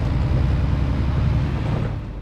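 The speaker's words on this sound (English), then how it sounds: "Indoor cabin rumble." Steady, dense low rumble of a tractor heard from inside the driver's cabin in the Farming Simulator 22 video game, a constant engine drone with muffled road noise and no voices.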